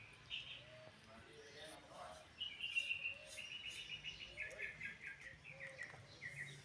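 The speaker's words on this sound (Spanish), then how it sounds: "el canto de los pajaritos" Small birds singing outdoors around a family home in Cuba, with faint, scattered chirps and short trills that grow a little busier midway, heard from a moderate distance against a quiet background.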